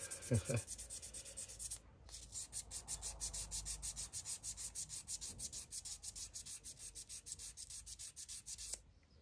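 Steady back-and-forth scrubbing of garden secateurs with an abrasive pad, a rhythmic rasping stroke repeated many times close up, with one brief pause near the start.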